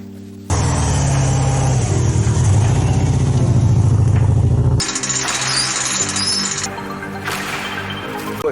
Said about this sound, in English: It was awesome to see the car driving for the first time, well, technically third time, even if the engine is running poorly.